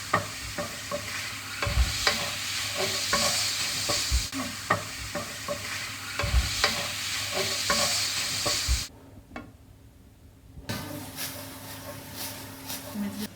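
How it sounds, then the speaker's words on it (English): Minced beef fries in a hot pan with olive oil, making a loud, continuous sizzle broken by periodic scrapes and knocks of stirring. The sound drops away briefly near the end, then resumes more quietly. "we're going to fry up some mince, get the pan nice and hot"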